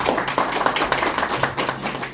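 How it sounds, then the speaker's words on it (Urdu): An audience applauds at a Balti-language poetry gathering in Skardu, dense overlapping claps forming a loud, continuous wash of sound with no speech on top. "زوردار تالیاں ہونی چاہیے۔"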